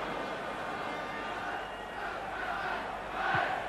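A stadium crowd at a football match between PSV Eindhoven and 1. FC Magdeburg in the Philips Stadion, a steady distant roar that swells toward the end.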